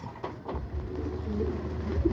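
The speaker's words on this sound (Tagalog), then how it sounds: "Ang daming ibon guys ayan nagdadaanan. Isang kumpol." Racing pigeons on a training flight pass over a loft in rainy weather, heard as soft repeated cooing against a steady low rumble of background noise, with no talking.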